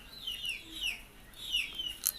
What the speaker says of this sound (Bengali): তাই এই মুরগিগুলো রাখে গেছে এখানে। এই যে সারাটা দিন ডাকে, সারাটা দিন ডাকে।